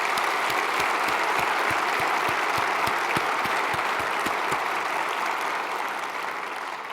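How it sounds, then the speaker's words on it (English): An audience at the opening ceremony of the 29th National Space Symposium applauds its award winners, a broad, steady wash of clapping from a large hall that holds level and begins to taper slightly near the end. "How about one more round of applause for all of our award winners tonight?"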